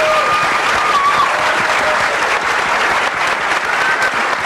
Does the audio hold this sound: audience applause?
yes